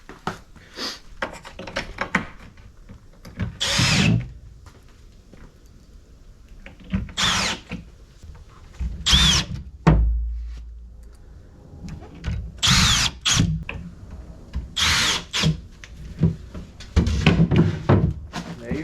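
A power drill drives screws into the corner clips of an RTA cabinet, several short whirring bursts with thunks and handling knocks between them, close by, with some speech mixed in.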